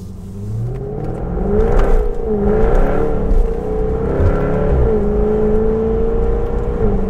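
Jaguar F-Type V8 S engine revving against its soft limiter, a loud, close growl that climbs and holds with wavering pitch, rising and falling a few times as the revs bounce against the cap.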